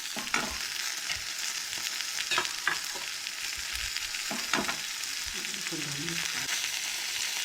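Tomatoes fry and get stirred in a pan for a Goan egg curry with coconut gravy, a steady bright sizzle running throughout with a few sharper spoon scrapes and clatters against the metal, no voices.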